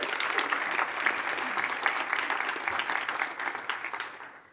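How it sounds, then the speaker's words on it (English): Summit audience applauding the event's sponsors, a full, continuous round of clapping that stays strong throughout, then fades out quickly at the close. "Could we give all of our sponsors a round of applause?"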